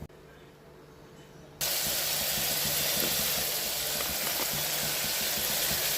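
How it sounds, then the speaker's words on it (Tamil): Onions dropped into hot oil and ghee with cinnamon, cloves and cardamom, a sudden loud hiss and sizzle that bursts in after a quieter opening and continues steadily, close by. "எண்ணெய், நெய், பட்டை, லவங்கம், ஏலக்காய் பொரிஞ்ச உடனே வெங்காயம் போடலாம்"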